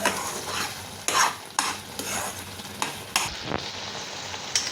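Carrot halwa cooking in its own sugar syrup is stirred in a pan, a soft continuous sizzle punctuated by several sharp spoon scrapes at uneven intervals, close up, with no voices.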